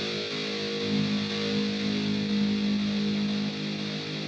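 A steady, dense wash of hiss-like distorted white noise from a guitar effect patch, sustained and even with a faint low hum underneath, no voices.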